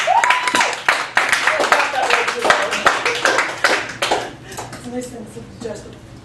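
Applause and scattered clapping from a small audience at a poetry open mic in a Chicago cafe gallery, a dense burst that thins out toward the end as a voice begins speaking.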